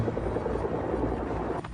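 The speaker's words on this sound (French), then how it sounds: "Soudain, plusieurs hélicoptères birotors arrivent au-dessus de leur tête" Twin-rotor Chinook helicopters flying overhead, a dense loud rotor throb and engine rumble that fills the short stretch without a break.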